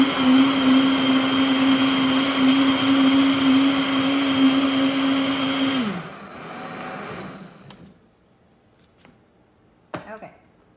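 A professional-grade countertop blender roars steadily while pureeing tomatoes into pizza sauce, then winds down sharply and falls quiet, leaving a few faint clicks and taps afterward.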